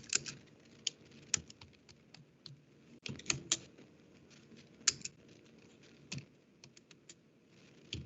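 A ping6 command is typed on a computer keyboard at a Linux terminal. Irregular bursts of soft, close keystrokes come with short pauses between them, and nobody speaks.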